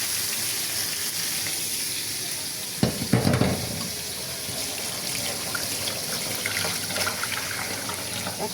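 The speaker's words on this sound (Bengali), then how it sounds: "আর মাছগুলো ভেজে নিচ্ছি।" Fish sizzles in a hot pan, a steady broadband frying hiss with a brief louder crackle and stirring burst partway through, heard alone without talk.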